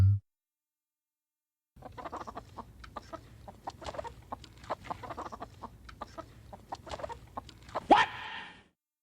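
Chicken clucking sound effect: a rapid, scattered series of quiet clucks over several seconds, ending with a sharper, louder squawk near the end.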